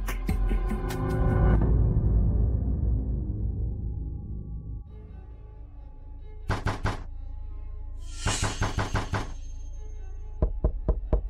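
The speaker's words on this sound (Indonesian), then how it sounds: "Kenapa ada yang mengetuk lagi?" Knocking on a door indoors, heard as several clusters of rapid, sharp knocks after background music fades, with a final short series of raps near the end.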